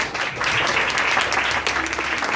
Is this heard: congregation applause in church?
yes